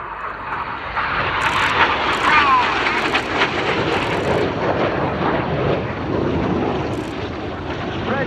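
Red Arrows jets at Cosford Airshow 2024 diving low over the airfield: a loud, broad jet roar sustained across the clip beneath an announcer's commentary over the public address.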